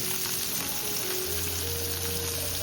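Fish fries in oil with garlic and chilli in a steady, dense, loud crackling sizzle heard close up without a break.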